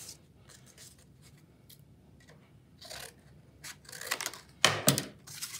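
Scissors snip through paper pieces, cutting them in half for an owl craft; a few quiet, close crisp cuts and rustles build to louder snips near the end.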